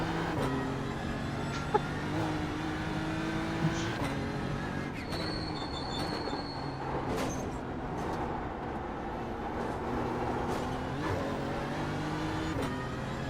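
A BMW GT4 race car approaches on the Nürburgring during the 24-hour race, a steady droning engine note with shifting pitch and occasional gear changes, heard from inside another car with a constant loud cabin roar.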